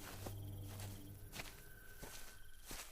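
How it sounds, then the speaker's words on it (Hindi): Slow, faint footsteps cross a quiet room toward a window at night, spaced soft thuds under a low hum and insect-like background hiss. "रघु धीरे धीरे खिड़की के पास गया।"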